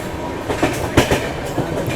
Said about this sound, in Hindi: अभी अपनी ट्रेन पहुँच रही है हरदा रेलवे स्टेशन स्किप करने के लिए।